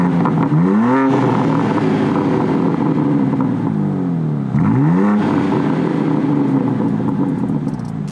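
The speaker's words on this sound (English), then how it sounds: "And here's what the car sounds like with the valves open." A 2023 BMW M2 G87 with the S58 twin-turbo inline-six and its exhaust valves open revs hard twice, rising and falling in loud sweeping bursts over a steady rumbling idle, close and with no talking.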